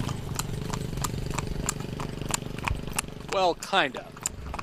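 A horse's hooves clip-clop steadily as it pulls a carriage through the streets of Edfu, with a motor engine idling nearby, someone briefly speaking, and a horse whinnying near the end.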